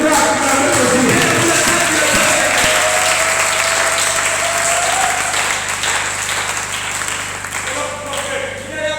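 A church congregation at a Sunday service applauds steadily to acclaim God, dense sustained clapping filling the room with a sustained tone running underneath throughout.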